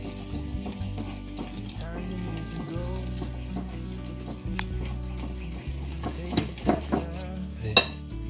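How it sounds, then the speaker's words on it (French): Eggs and flour are whisked together in a bowl for crêpe batter, a steady scraping and clinking of whisk against the bowl with sharper knocks near the end, close and moderately loud with no talk. "je mélange bien mes œufs avec la farine"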